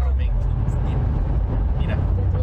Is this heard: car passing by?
yes